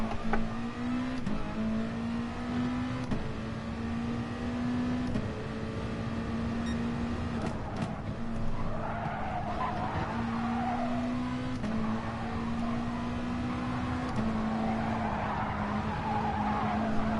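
A race car in GT Sport brakes hard and skids, its steady engine drone running throughout with tire scrub and squeal rising over it in the middle and again near the end.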